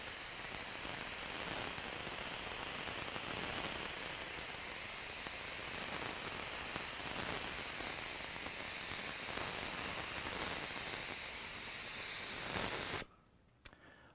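An aerosol can sprays a steady, loud hiss of 4040 bleed checker, held five to six inches from the surface in an overlapping medium-wet coat. The hiss continues for about thirteen seconds, then cuts off abruptly into near silence.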